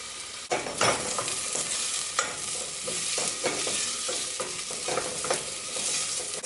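Onions, ginger and garlic sizzle steadily in a hot pan, with a spoon repeatedly scraping and stirring through the loud continuous frying hiss.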